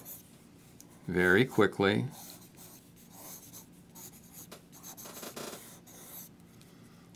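A pencil sketches rough poses on paper in quick scratchy strokes, with a loud burst of strokes early on and softer scratching after. A voice speaks briefly.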